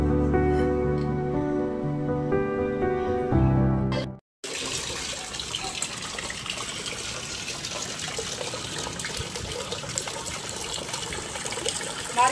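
A tap runs steadily into a basin close by, a continuous gushing trickle that starts after a sudden break and then fills the rest of the stretch, with no voices heard.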